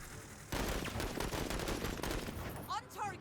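A squad opens fire in the tactical game MENACE: a sudden, sustained rattle of rapid gunshots lasting a few seconds, fairly distant and dense, trailing into scattered shots and whizzing effects.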